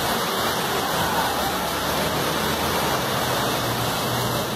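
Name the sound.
heavy rain on a beachfront avenue in Fortaleza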